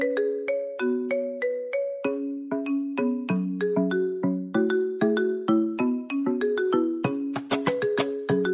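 A phone ringtone plays a bright, bell-like electronic melody of quick, evenly spaced notes, loud and clear with no voices.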